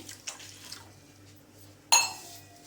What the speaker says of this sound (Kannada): ಇನ್ನೊಂದು ಸ್ವಲ್ಪ ನೀರು ಹಾಕೋತಾ ಇದ್ದೀನಿ